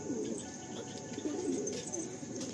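Madrasi pigeons in a loft, soft repeated cooing close by with a few faint chirps in the background.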